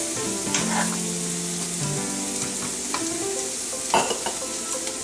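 Tteokbokki sauce mixture stirred in a pan, a steady close scraping and swishing with a faint sizzle underneath and a couple of sharper utensil clinks near the end.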